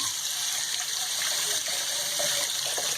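Water poured into a pot of leftovers to start a stock for a Peruvian-style pot roast, a steady, close gushing splash that runs for the full few seconds without talk.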